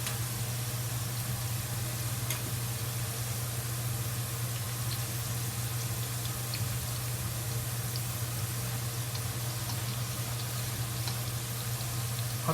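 Green beans deep-frying in oil with chili peppers and peppercorns, a constant, even sizzle and bubbling hiss over a low steady hum, with no talking throughout.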